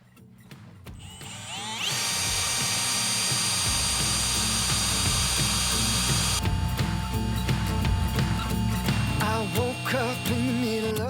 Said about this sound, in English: we are drilling into basically between two high tensile bolts